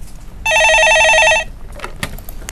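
A telephone rings once in a steady electronic burst as a caller phones in to a stock advice show, followed by brief faint handling noises.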